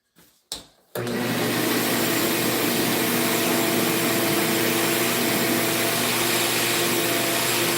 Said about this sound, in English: I see some stuff that needs to be vacuumed.